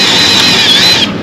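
A power drill bores into a rusty part of a 2002 Ford F350 truck, a loud, close, high-pitched whine held for about a second before it stops.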